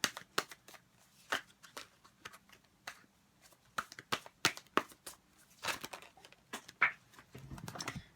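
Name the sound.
shuffling tarot cards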